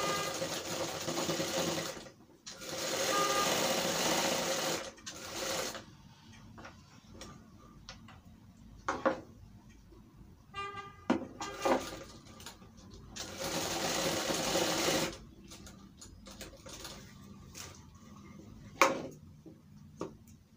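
A sewing machine stitches a Nehru coat in short bursts of fast, even rattling separated by pauses, with quiet handling clicks and soft talk in the gaps.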